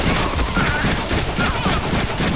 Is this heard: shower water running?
no